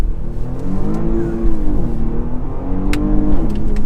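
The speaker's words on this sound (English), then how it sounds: "First gear, oh, you hear the engine." A Porsche Panamera 4S Sport Turismo with an 8-speed PDK gearbox revs hard in first gear in manual mode, its engine note loud and close, rising and falling in a smooth sweep without a break.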